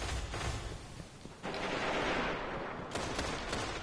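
Dense gunfire in a video game, rapid bursts and volleys rolling together almost continuously with no clear gaps, steady and fairly loud throughout.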